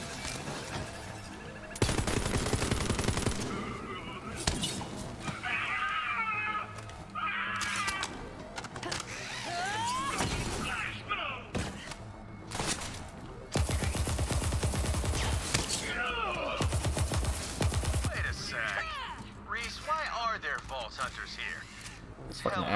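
Laser weapon fire in Borderlands 3, with loud bursts of rapid zapping shots in several volleys, mixed with game effects, music and character voices.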